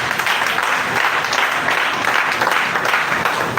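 A church congregation applauds for Jesus in steady, dense clapping that fills the room without a break, with no voices rising above it.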